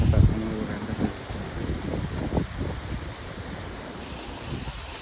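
Heavy monsoon rain roaring steadily at a riverside resort, a broad wash of noise, a few low rumbles and thuds near the start, no voices.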